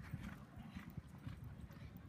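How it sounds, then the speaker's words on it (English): A racehorse galloping on the track at Churchill Downs, its hoofbeats faint and distant in a quick, even rhythm beneath soft background noise. "Here for the first time, galloping at Churchill Downs."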